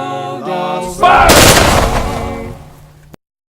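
A firing squad fires a single rifle volley as a loud, sharp crack that rolls off into a long echoing decay. A sustained musical tone sits beneath the blast and cuts off abruptly.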